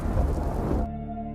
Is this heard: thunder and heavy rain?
yes